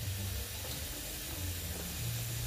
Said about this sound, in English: the steam's coming out in here, so it's not good.